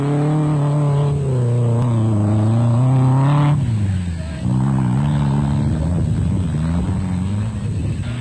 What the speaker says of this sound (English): Look Africa Truggy was one of the few special vehicles that made it through the thick sand